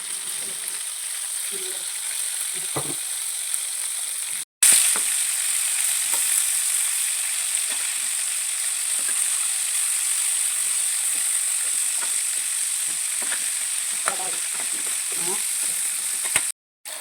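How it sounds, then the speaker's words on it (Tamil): Stingray fish frying in sesame oil with curry leaves in a pan, giving a steady, even sizzle with scattered soft pops and crackles that runs almost unbroken at close range and is interrupted only by two brief gaps. "கடாயில் நல்லெண்ணெய் ஊற்றி ஒரு கத்து கருவேப்பிலையை போட்டு பெசரி வச்சுருக்கிற மீனை எடுத்து வச்சு வேக வைக்கணும்"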